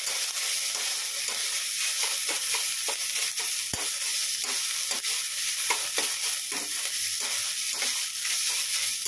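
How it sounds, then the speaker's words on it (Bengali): Sliced banana stem fries in a pan with a constant loud sizzle, while a utensil stirs and scrapes through it in irregular taps, all close up. "এখানে দেখো থোড় ভাজা বসিয়ে দিয়েছি।"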